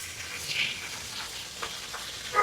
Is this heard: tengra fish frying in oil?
yes